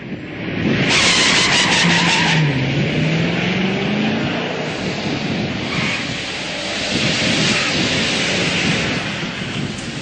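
A muscle car launches at about 3,000 RPM and breaks its tires loose, a loud sustained roar of engine and spinning rubber with a rising engine tone under the noise, heard from nearby with no talking.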